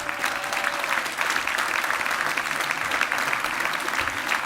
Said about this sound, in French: Nous allons encore applaudir et remercier donc Tom Sawyer.